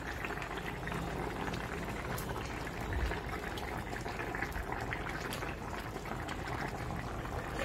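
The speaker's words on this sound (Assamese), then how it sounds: "মই এতিয়া ইয়াতে মাছখিনি দি দিওঁ" Fish pieces go into a pot of bubbling fish curry with nearly cooked bottle gourd, giving a steady close boil with a brief soft plop partway through and no talking.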